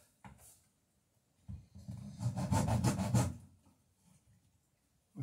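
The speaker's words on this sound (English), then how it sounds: "the best planing experience I've ever had." An old, well-worn wood planer, once used on house floors, shaves timber for a sailing dory, giving one rough, rasping pass of about a second and a half between quieter moments.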